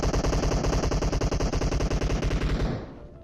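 Sustained automatic gunfire from PUBG Mobile, a rapid, loud, continuous burst of shots that cuts off near the end into a brief fading tail.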